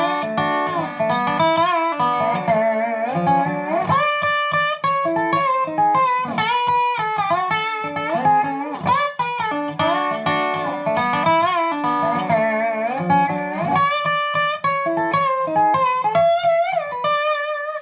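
A tune played as a fast, bright melodic line on a plucked stringed instrument, with busy notes and a steady rhythm, heard close and continuously, with no talking.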